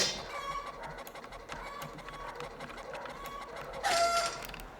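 Chickens cluck and a rooster crows in a synthetic, game-like mix from Roblox, with a louder burst of squawking near the end.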